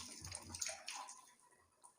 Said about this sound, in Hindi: और उसके बाद 3 बार आपको सर पर पानी बहाना है अच्छे से, जिस्म को रगड़ते हुए।